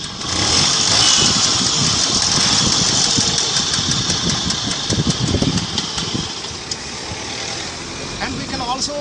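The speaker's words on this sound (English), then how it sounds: "I am going to show you the starting of Lamb 150." A Lambretta 150 scooter engine fires up and settles into a loud, close idle with a steady rattling putter and a few revving swells.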